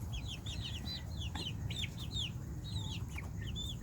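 Backyard city hens cluck softly and repeatedly, with several overlapping chirpy calls heard close by against a low, steady background murmur.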